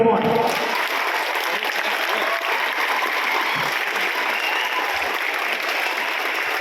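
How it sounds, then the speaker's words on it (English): An audience claps together on cue after a spoken countdown at a motivational talk, a loud, dense, sustained burst of many hands that starts abruptly and holds steady, with a voice speaking over it. "I want to see everybody clap"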